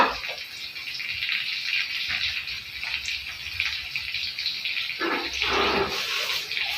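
Water pouring steadily from a tap in a home kitchen during wajik cooking for a village slametan, a continuous hissing gush that thickens briefly near the end, with no talking.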